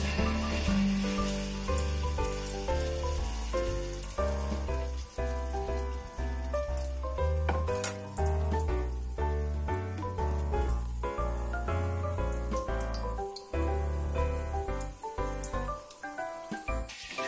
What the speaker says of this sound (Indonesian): Setelah minyak panas, masukkan adonan Fuyung Hai untuk digoreng.